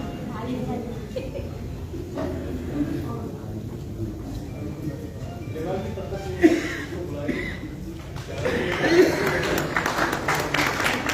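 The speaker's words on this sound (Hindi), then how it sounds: "थोड़ा सा माहौल तालियां बजा बजा के थक गया होगा हाथ" Audience applause at a Rashtriya Lok Janshakti Party workers' conference in Delhi: sustained, dense clapping from a crowd that rises and swells in bursts, mixed with voices and chatter throughout.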